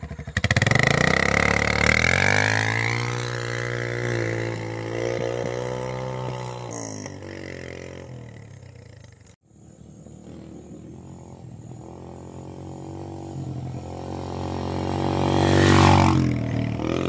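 A mini motorcycle engine revs hard, its rising and falling whine sweeping up and down. It drops off sharply partway through, then idles roughly before revving loudly again, close by.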